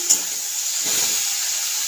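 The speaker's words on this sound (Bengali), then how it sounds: "এদিকে শাকটা তেলে দিয়ে ভাজছি" Red amaranth greens fry in oil, making a soft steady sizzle and hiss, with a small stir at the start.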